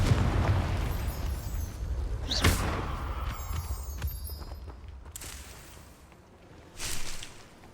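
A Confringo fire spell detonates in Hogwarts Legacy, producing a sharp blast near 2.5 seconds that booms and then decays into rumbling game ambience, with a second swell of noise late in the clip.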